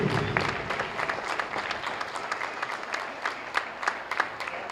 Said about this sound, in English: give a nice round of applause to these seniors